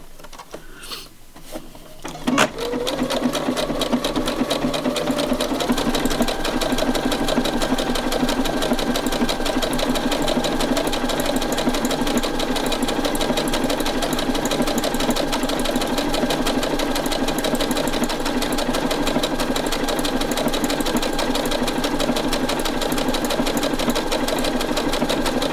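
After a brief start, a sewing machine stitches double-thickness soft fabric in one long, loud, unbroken run, close up with an even mechanical rhythm and no talking.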